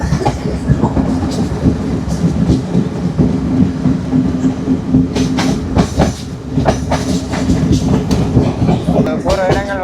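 Yal Devi train running fast on a Sri Lankan line, heard from on board as a loud, continuous rumble with rhythmic clickety-clack of wheels over rail joints and occasional squealing.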